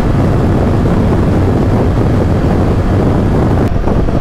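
Steady roaring wind buffeting a rider on a Himalayan 450 motorcycle at high speed on a trail ride, loud and continuous throughout with no voices.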